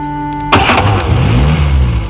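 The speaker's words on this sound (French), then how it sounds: "Je vais voir si ça démarre." After a steady tone cuts off, a truck engine cranks and catches, rumbling into a low idle up close.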